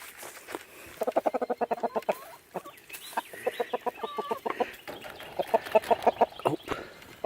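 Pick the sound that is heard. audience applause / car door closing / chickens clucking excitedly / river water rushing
chickens clucking excitedly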